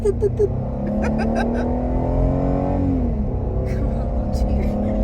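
A small Jeep's engine strains and revs while climbing uphill on ice, a loud, steady drone whose pitch rises, then slides down and climbs again as the wheels fight for grip.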